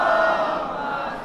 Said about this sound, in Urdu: ایک اور بہت بلند نعرے سے پڑھیں